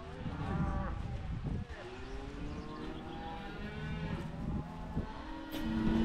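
Several cattle on a cattle drive in remote Montana moo repeatedly, overlapping low drawn-out calls, some near and some farther off, with a steady outdoor rumble beneath.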